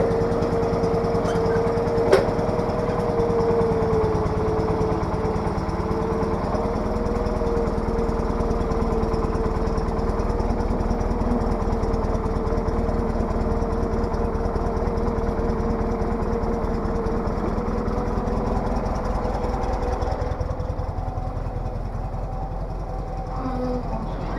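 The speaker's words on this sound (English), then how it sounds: "Okay, so I got the carburetor adjusted. It's running a little bit better now." A Case 446 garden tractor engine runs at a steady idle after a carburetor adjustment. The low, continuous rumble is loud and close, holds even for over twenty seconds, and eases slightly near the end.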